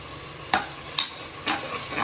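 Curry leaves fry in hot oil as part of a chicken kulambu, with a soft sizzle broken by three or four sharp spatula scrapes roughly every half second, close and clear with no talking.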